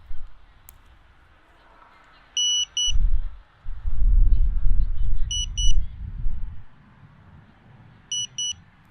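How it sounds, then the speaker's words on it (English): Lost-model buzzer on a GEPRC Crocodile Baby drone giving loud, high double beeps three times at regular intervals, with rumbling handling noise and low background between the bursts. "this buzzer will start going off and will give you a really loud beep that helps you find it"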